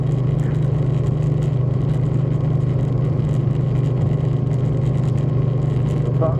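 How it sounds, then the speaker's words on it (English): A 2013 Suzuki Boulevard M50 motorcycle idles, miked near the saddlebag, with a loud, steady low engine drone and throbbing exhaust rumble at a constant, unchanging pace. "I can capture my exhaust sound."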